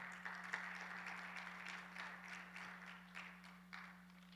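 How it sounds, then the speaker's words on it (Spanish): A church congregation applauds during a Bible seminary class, a faint, steady wash of many hands clapping with a few louder claps standing out, heard at a distance over a constant low electrical hum. "Le da un fuerte aplauso al Señor."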